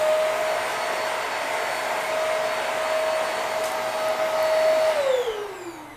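Hoover Max Life Pro Pet Swivel vacuum cleaner running steadily up close with a loud, even motor whine, then winding down in pitch as it switches off near the end.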